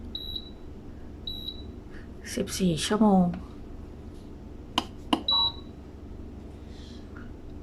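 Three short, clear electronic beeps from a food dehydrator as its timer is set for drying mandarin orange segments at 131°F, spaced a few seconds apart, while someone talks between them.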